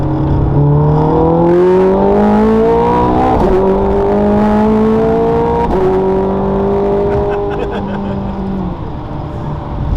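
A car accelerates hard after a shift into second gear, its engine note rising in steady sweeps that drop back at each gear change, loud and close throughout.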